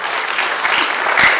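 An audience at a leadership and governance Q&A event claps steadily in a dense, continuous round of applause, loud and close with no talk over it.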